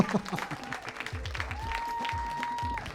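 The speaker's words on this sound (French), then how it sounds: "Sur vos applaudissements." Audience applause rises at a dance competition semi-final, a soft wash of clapping mixed with crowd noise and a voice over it, while a sustained musical tone hums in the background.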